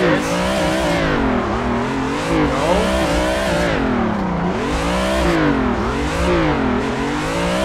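Car drifting with clutch kicks in Assetto Corsa on Xbox One, engine note rising and falling steadily as the revs swing through repeated throttle and clutch changes, loud and continuous without talk.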